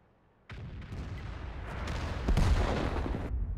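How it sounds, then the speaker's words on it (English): An artillery shot fired in World of Tanks, a sudden heavy boom followed by a sustained rumbling roar that swells further midway and holds to the end. "And my shot went really wide."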